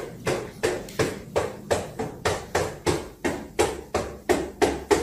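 Heavy knocking blows on a door or wall in a scary video, a steady series of about fourteen loud thuds spaced roughly every third of a second, close and alone with no voices.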